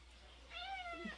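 A single cat meows once, drawn out with a rising then falling pitch and a short throaty trill at the end, fairly close and clear over a quiet indoor background.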